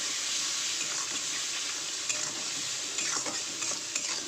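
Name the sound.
spices with turmeric, chilli powder and salt frying and stirred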